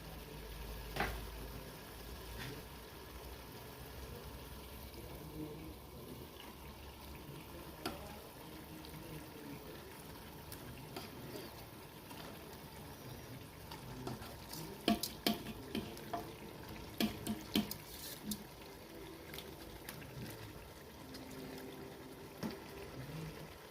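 Chicken pieces stirred into a tomato masala in a pan for biryani, giving a low continuous sizzle with scattered scraping and clacking of a spoon that grows busier midway, quiet and without speech.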